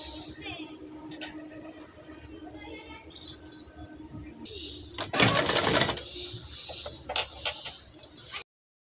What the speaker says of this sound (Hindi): यहाँ से लेके यहाँ तक सिलाई लगाएंगे।